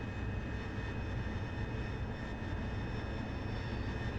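An AV-8B Harrier's jet engine roars at high power during a rolling vertical takeoff. The steady, dense, broadband rush holds at an even loudness from start to finish, with no pauses and no talking.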